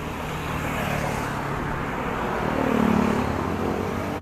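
Road traffic passing on a street, a continuous loud roadway hum with one vehicle swelling nearer around the middle before easing off.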